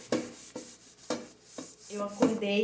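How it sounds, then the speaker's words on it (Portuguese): A baking tray being washed by hand, with repeated rubbing and scrubbing strokes and a wet scraping texture, fairly close and moderately loud, with no talking. "Enquanto eu tô lavando aqui minha assadeira"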